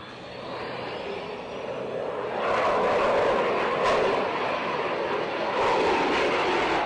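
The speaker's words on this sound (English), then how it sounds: "Sorry, sound of a jet." A jet aircraft roars as it flies past, heard as a broad, rushing noise played over radio that swells louder midway and holds steady with no voices.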